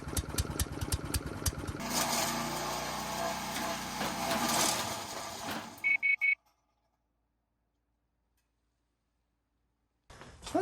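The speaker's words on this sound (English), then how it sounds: "I just went out and bought myself the Champion Chipper Shredder" A Champion chipper shredder runs loud and close with a rough mechanical roar and grinding, then cuts out abruptly into silence, followed by a brief burst of noise at the very end.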